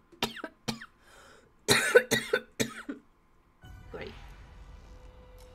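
Several harsh in-game coughs from a character in Monster Hunter World: Iceborne burst out in quick clusters, close and loud, separated by short silences, followed by a low background hum.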